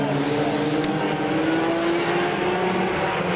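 Front wheel drive race cars roaring around a racetrack during a heat race, a loud continuous engine drone with steady revving pitch, close and constant throughout.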